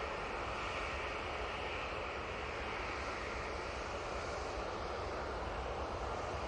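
A jet airliner takes off at Manchester Airport, its engines giving a steady, fairly distant broadband roar that holds evenly throughout with no voices.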